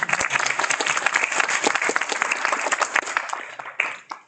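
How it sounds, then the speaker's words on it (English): Conference audience at a fintech event applauds, a dense, loud burst of many hands clapping together that holds steady for several seconds before thinning out at the end. "Let's give a round of applause as well again."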